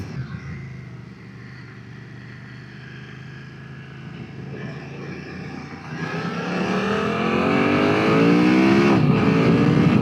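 A BMW F900 XR motorcycle accelerates in dynamic mode, its engine note climbing steadily in pitch and loudness with quick-shifter gear changes, heard close up over wind rush.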